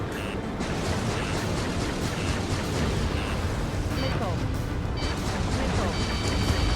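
Missile launch and explosions during an Ace Combat 7 air-combat mission against an oil pipeline, a dense, continuous roar of blasts and engine noise with radio chatter and game voices mixed over it.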